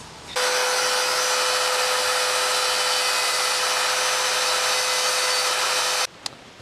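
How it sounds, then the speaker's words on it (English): A Dremel rotary tool grinding a logo into a metal branding iron, running as a steady, loud, high whine for about six seconds before cutting off, followed by a few small clicks. "I'm going to come back with my Dremel tool and with a bunch of bits and go ahead and grind it out"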